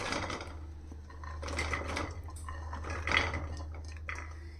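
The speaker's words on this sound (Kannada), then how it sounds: "ಇವಾಗ ನಾನು ಒಂದು ಕುಕ್ಕರ್ ಪ್ಯಾನಿಗೆ ತಗೊಂಡಿರುವಂತಹ ಎಲ್ಲ ತರಕಾರಿನ ಸೇರಿಸ್ಕೊತೀನಿ" Mixed vegetables, including sweet potato and peas, tumble into a cooker pan with light clatter and knocks of pieces and utensil against metal over a steady low hum.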